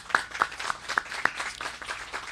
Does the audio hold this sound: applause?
yes